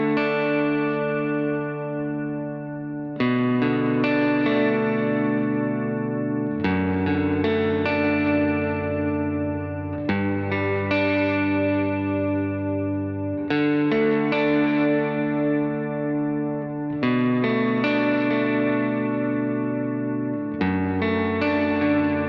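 Electric guitar played through Line 6 HX Stomp worship preset patches, sustained ringing chords with chorus, echo and reverb, struck about every three to four seconds and left to swell, with no voices.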